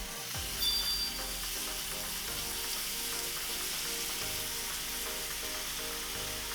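Vegetables are added to ground meat frying in a pan, bringing a steady, close hiss of sizzling oil that stays even and unbroken, with a faint stir near the start.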